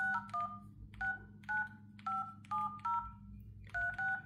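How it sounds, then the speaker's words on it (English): A flip phone dials out with a run of distinct DTMF keypad tones, each short two-note beep sounding clearly alone, spaced in quick groups with brief pauses and a steady low hum beneath. "I'm gonna call myself."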